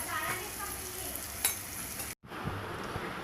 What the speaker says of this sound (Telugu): ఇప్పుడు ఈ మొత్తాన్ని జాగ్రత్తగా కలుపుకోవాలి